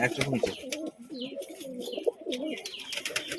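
A young male pigeon coos in repeated rolling low phrases close by, with chirps in the background and a voice talking intermittently.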